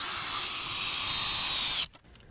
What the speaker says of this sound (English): make sure you're using a drill on them, not an impact